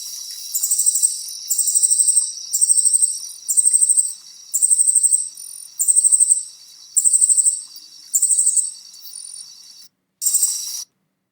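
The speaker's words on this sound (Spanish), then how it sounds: "eso que está ahí era este grillito que le dicen como un grillo cornudo o saltamontes cornudo" A horned cricket, or horned katydid, calls in a series of about ten evenly spaced, high, buzzing pulsed trills, each lasting roughly half a second, loud and clear against near silence, with no voices.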